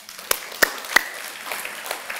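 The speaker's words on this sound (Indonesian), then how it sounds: "berikan tepuk tangan untuk Tuhan Yesus" Church congregation at a Sunday service clapping in praise, a few loud distinct claps followed by lighter scattered clapping, fairly close and brief.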